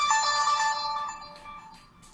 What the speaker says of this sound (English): damn notifications.